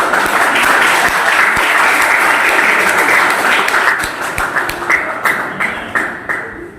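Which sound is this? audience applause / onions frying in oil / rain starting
audience applause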